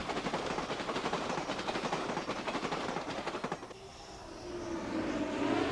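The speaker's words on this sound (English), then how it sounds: "planes of every description turn final at El Centro, coming in to participate in tomorrow's air show" Aircraft engine roar with a rapid pulsing throb, loud and close, as planes land at El Centro before an air show, then fading into a lower, smoother drone as another plane approaches.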